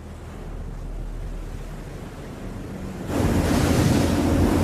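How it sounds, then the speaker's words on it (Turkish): Rough sea waves crash and surge close by with wind buffeting the microphone, growing louder and heavier in the final stretch. "Su gerçekten çok dalgalı."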